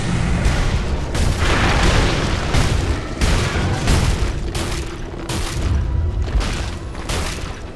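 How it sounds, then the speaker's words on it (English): A tower under attack in Dota 2, with repeated heavy booming impacts and crashing hits in a fast irregular rhythm, loud and dense throughout. "Radiant's bottom tower is under attack."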